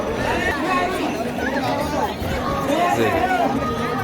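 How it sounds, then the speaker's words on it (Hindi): A dense crowd of devotees packs the Kedarnath temple grounds, seated early and waiting for the aarti, their overlapping chatter forming a steady, close hubbub with no single voice standing out. "तो देखिए कितनी भीड़ है, कितने लोग उमड़े हुए हैं आरती के लिए"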